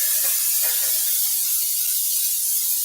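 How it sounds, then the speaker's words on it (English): Cooking spray from a can misted onto a pan in a kitchen sink before cooking chicken, one continuous close, loud hiss that runs for the whole moment without pause. "put this in the sink and spray it down with spray so that my chicken don't stick"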